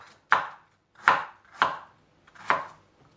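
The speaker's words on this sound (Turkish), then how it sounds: "ayvalarımı şöyle ince ince doğrayıp" Four crisp knife chops finely cutting quince on a cutting board, evenly spaced and close, with quiet gaps between each stroke.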